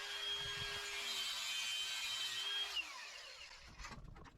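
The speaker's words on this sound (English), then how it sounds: "So then we're going to take a cutoff wheel just to cut it." A cutoff wheel slices through an AN fuel line hose with a steady high whine and grinding hiss for about three seconds, then spins down, followed by faint handling clatter.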